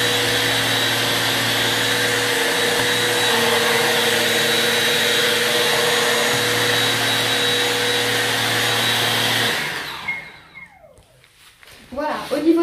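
Stick vacuum cleaner running with a steady, loud motor whine and hum that cuts off near the end, leaving quieter handling noises.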